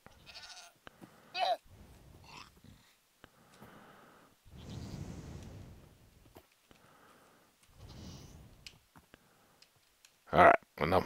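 Sheep bleat in Minecraft in several separate bursts spread across the stretch, with quiet gaps and game clicks between them, and a louder final cluster at the end.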